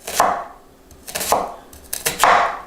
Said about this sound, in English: I just washed the onion that we're gonna use. Now I'm gonna cut it.